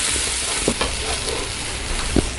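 Ground tomato, onion and garlic paste sizzles steadily in hot oil for tomato kara chutney, with a constant frying hiss and a few soft stirring knocks.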